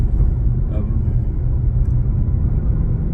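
A 2021 Ford Mustang GT idling in its quiet exhaust mode, giving a low, steady, subdued engine rumble heard from close by with no talking.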